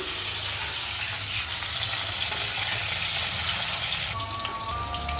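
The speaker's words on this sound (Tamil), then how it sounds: "எண்ணெயிலே வதக்கிக்கலாம்" Eggplant sautés in hot oil for a Tamil veg biryani dish, a dense, steady sizzle heard close up that carries on without a break, with no talking over it.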